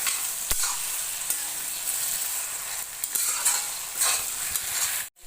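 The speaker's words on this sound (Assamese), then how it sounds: "আৰু এইবাৰ মই এইখিনি ভালদৰে ভাজি ল'ম" Chicken pieces fry with softened tomatoes in a pan and are stirred. A continuous close sizzle is broken by sharp scrapes and clinks of the spatula, and it cuts off briefly near the end.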